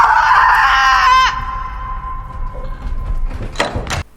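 A woman in a film shrieks in pain after cutting off her toe, a loud, strained scream lasting about a second, then a lingering tone and a couple of sharp thumps.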